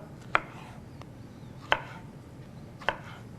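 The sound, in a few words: slicing banana into rounds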